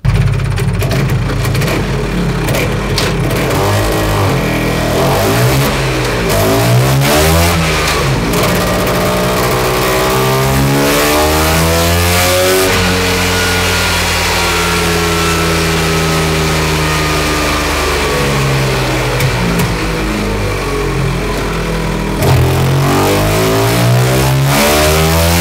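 A scooter engine fitted with a BGM Big Box Touring exhaust revs on a dyno, loud and close, its pitch sweeping up and down through repeated full-throttle runs for about twenty-five seconds.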